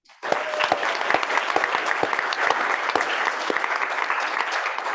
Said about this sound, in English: let's just give a round of applause to Luke Young, Jamie Bailey, and Leanne Lincolnhofer